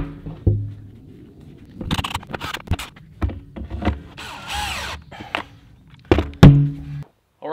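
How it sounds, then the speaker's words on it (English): A sealable plastic lid goes back onto a storm water catch basin, with several loud hollow thunks and knocks, some scraping and fumbling between them, close by. "We have a sealable lid, which we're going to put back on now and be done."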